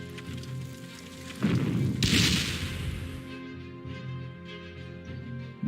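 Artillery strike in the Panzer Corps strategy game, a heavy booming impact that erupts suddenly and rolls into a broad crashing rumble before fading under a steady background hum.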